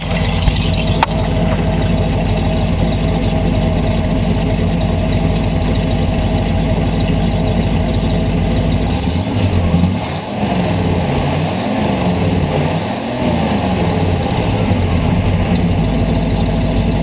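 A stock 1966 Ford Bronco with its original single exhaust idles steadily and loud at close range, the engine note holding even throughout with a few slight wavering surges toward the end and no talk.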